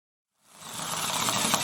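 An electric screwdriver set to torque level 5 drives a screw into wood, its motor whirring up after a short silence and running steadily and close for over a second.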